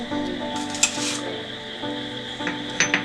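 Boondi mixture gets stirred with chili powder, salt and coriander powder in a pan: soft scraping and rustling of the crisp pieces, a steady background hum, and a few light metallic clinks of the spoon.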